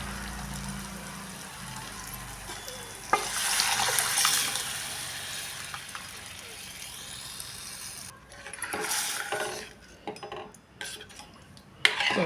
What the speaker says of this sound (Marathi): त्यामध्ये आता ही घोटलेली डाळ ओतून घ्यायची आहे.